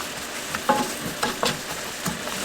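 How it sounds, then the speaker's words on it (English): Maple syrup and pecans sizzling in a hot pan while being stirred, with intermittent scraping and clattering bursts over a constant crackling hiss. "just kind of keep moving things around and let it sizzle for a minute"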